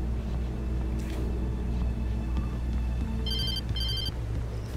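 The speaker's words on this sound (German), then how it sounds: "Telefon." In Alan Wake Remastered, a telephone rings twice near the end, two short electronic trills over a low rumbling game ambience.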